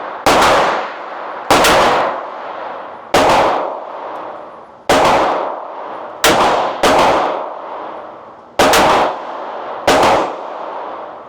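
Smith & Wesson revolver firing .38 rounds, seven loud sharp shots spaced about a second and a half apart, each with a ringing decay.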